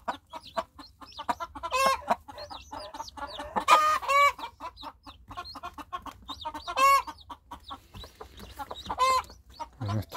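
A hen with five newly hatched chicks, clucking in repeated short bursts close by while the chicks' high peeping calls break through at intervals.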